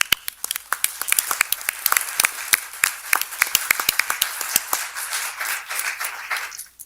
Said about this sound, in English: And that's just a round of applause